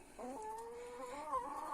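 A broody hen with freshly hatched chicks clucks angrily in a short, drawn-out, wavering call, close and fairly quiet.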